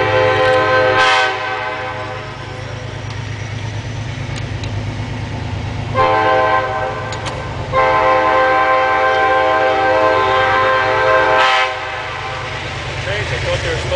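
A train rolls past with a loud, close horn blowing in long sustained blasts, broken by brief gaps, over a continuous low rumble of wheels and cars, heard outdoors during a live power-line demonstration.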